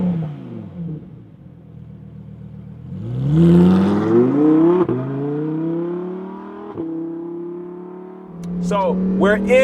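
A Lamborghini Huracan Performante out on the road, its engine loud and close as it revs up through rising pitches, holds a steady drone, then climbs again toward a sharp burst near the end.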